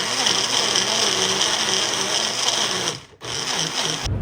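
A Magic Bullet blender grinds raw mango and green chilli into a thick chutney paste. Its loud, steady motor whir runs nearly continuously, cuts out briefly near the end and then starts again.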